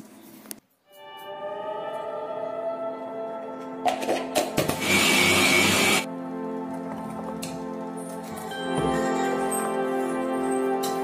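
A mixer grinder whirs loudly for a couple of seconds, grinding spices, garlic and onion for a dry fish curry, amid tonal background sounds and a brief clatter before it.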